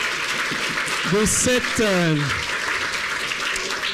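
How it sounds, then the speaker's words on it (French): Audience applause at a French live event as a jury member is welcomed to the microphone, steady clapping throughout with a voice speaking over it partway. "On applaudit Pascal de Turmy"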